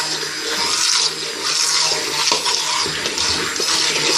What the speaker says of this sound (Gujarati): પાણી રેડું